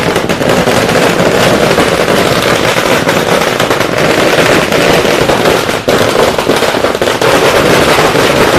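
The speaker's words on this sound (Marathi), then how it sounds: "फटाक्याची आतिषबाजी या ठिकाणी झालेली आहे" Firecrackers and fireworks go off in a dense, relentless barrage at an outdoor political party rally, loud, close crackling bursts packed together with no pause for the whole stretch.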